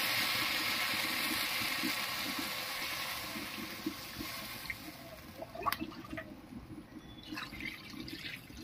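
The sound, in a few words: water poured into the fish curry pan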